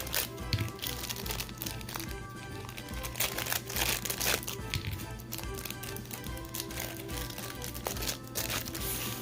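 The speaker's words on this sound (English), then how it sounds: "I'm just going to go ahead and quickly get these out the bag" Plastic bag rustles and crinkles continuously as nail polish bottles are pulled out of it, with scattered taps of the bottles, close and fairly loud with no talking.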